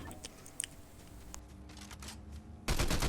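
Gunfire in the video game Fortnite: faint scattered pops at first, then a loud, dense rapid burst of shots near the end. No one speaks.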